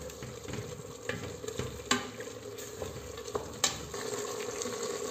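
Meat with tomato paste is stirred in a pan over gentle heat, a low steady sizzle under soft repeated scrapes and a couple of sharper knocks of the utensil, close by with no talking.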